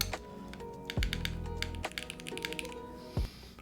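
Keys clacking steadily on a spare Bluetooth computer keyboard at a desk, close and fairly quiet, with a few heavier thumps mixed into the typing rhythm and no talking.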